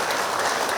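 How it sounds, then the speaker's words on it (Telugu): An audience at a gathering applauds to thank a guest, a brief wash of many hands clapping at once, steady and fairly loud with no voices. "ఒకసారి గట్టిగా చప్పట్లతో ధన్యవాదాలు తెలియపడతాం."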